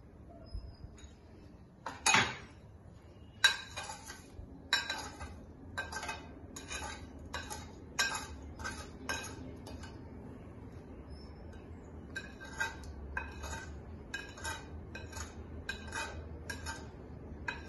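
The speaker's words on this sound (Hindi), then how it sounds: "अभी स्वाद अनुसार मैं यहाँ पे सुगर और सॉल्ट मिक्स करूंगा" A spoon stirs sugar and salt into lemon juice with mint leaves and green chili, clinking against the vessel in quick rhythmic bursts, close and fairly soft, with a louder knock near the start.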